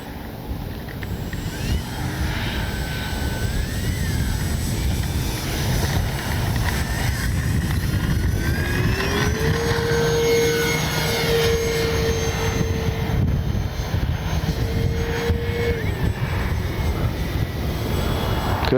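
A Kavan Bristell B-23 model plane flies in strong wind, its engine droning steadily and its pitch rising and falling as it passes, with wind roaring into the microphone the whole time.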